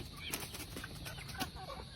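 Black Maran chickens cluck softly on a small backyard mini farm, scattered low calls over a steady outdoor background, fairly faint and without talk.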